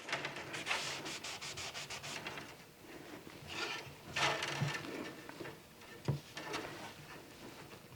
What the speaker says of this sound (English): We can touch this up with sandpaper.